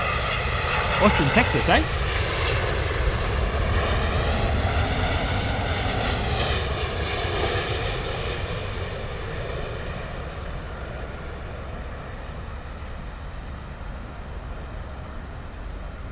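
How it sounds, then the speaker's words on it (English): A British Airways Boeing 777 landing at London Heathrow, a loud steady jet roar with shifting engine tones that eases slightly as the aircraft passes, and a voice speaking briefly near the start. "British Airways 777 coming in from Austin."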